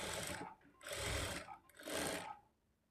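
A sewing machine stitching a lined blouse, running in three short close bursts of whirring motor and needle chatter separated by brief pauses, with no voices.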